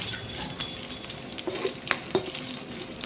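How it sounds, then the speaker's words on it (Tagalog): A leftover beef patty sautéing in a pan for vegetable noodles, with a steady close sizzle of frying under occasional sharp scrapes and clinks of stirring, no talking. "Tapos yung ating beef patty na leftover. Ayan, gisa-gisa lang natin siya."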